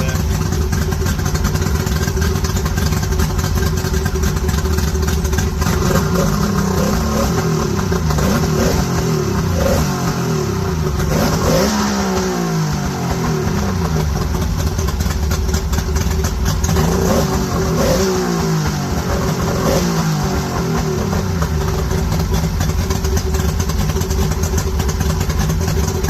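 Used Mercury 50HP outboard motor with rough carburetors running on its first start, a continuous loud engine drone with uneven revving surges throughout.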